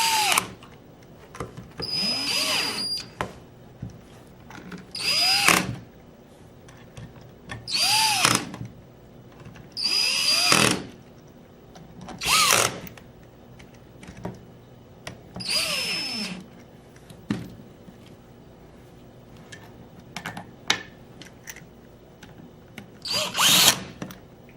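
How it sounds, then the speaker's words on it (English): A cordless drill on a low torque setting tightens bolts in repeated short bursts, about nine separate runs with brief pauses between, each spinning up and winding down, close by. "I'm using a drill just to kind of speed up the process"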